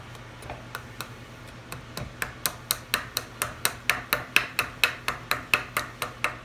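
An axe chops a redbud spoon blank out of a billet, its sharp, close wooden knocks coming in a steady rapid rhythm of about twenty strikes that grow slightly louder and faster over a faint background hum.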